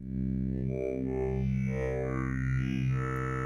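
Techno comes from a Plaits synth module playing Braids wavetables, a droning, distorted sustained tone with a shifting chorus-like texture that stays loud and continuous.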